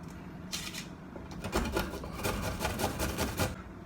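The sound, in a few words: grating ginger and garlic with a grater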